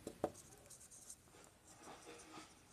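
A pen scratches across paper while someone works through calculus on a page, faint, soft strokes with one sharper tap near the start, close and quiet.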